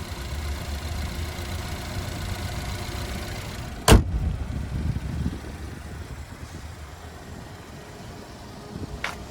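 A 2017 Chevrolet Equinox LS with a 2.4-liter naturally aspirated four-cylinder engine idles steadily at close range, with one sharp knock or clunk partway through and a faint click near the end.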